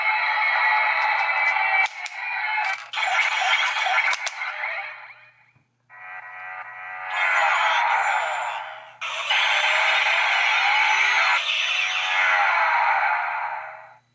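A DX Shift Tridoron toy belt gives off bright electronic sound effects in several bursts, with whooshing, crackling tones, a brief pause, then a longer run of noisy synthetic effects, fairly loud and close with no talk.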